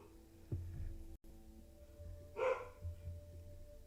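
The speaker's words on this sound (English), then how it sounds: "There's my dog again." A pet dog barks during a live trading stream at home, a single muffled bark-like burst mid-clip over a steady low hum, fairly distant and not loud.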